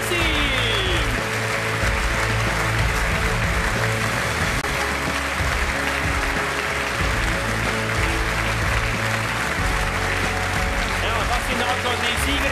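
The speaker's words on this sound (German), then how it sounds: "Und ein großer Applaus für die Sportlerin des Jahres" Applause at a sports awards gala honouring the sportswoman of the year, steady dense clapping mixed with loud music and hall noise throughout.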